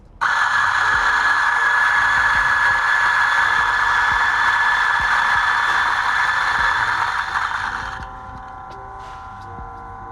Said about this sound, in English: So I'm going to adjust my grinder down and grind for the Bambino Plus.